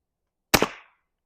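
A single sharp crack from a vintage Remington .22 bolt-action rifle firing a subsonic round, close and brief with a short decaying tail, then silence.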